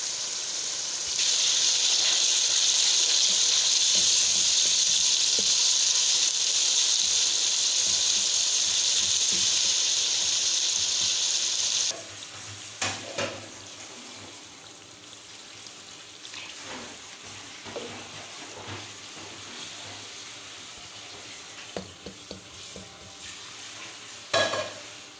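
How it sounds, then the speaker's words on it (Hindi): Tomatoes go into browned onions in a pan for chicken karahi, making a strong, even sizzle for about twelve seconds. It then cuts off, leaving quieter clatter, water and scattered kitchen knocks. "इसमें अब हम ऐड करेंगे टमाटर।"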